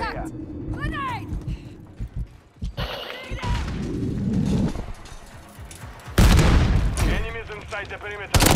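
Grenade blasts and bursts of gunfire in the game Call of Duty MW3 during a Hardpoint match, loud booms and rattling shots mixed with shouted callouts and announcer voice lines, with a big explosion near the end.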